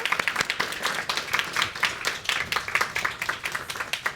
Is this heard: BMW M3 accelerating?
no